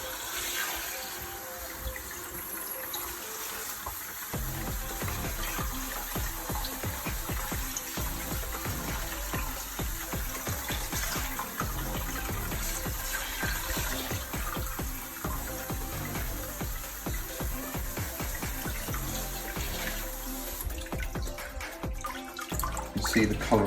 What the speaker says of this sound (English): I'm not using real high pressure, I'm just using water out of the tap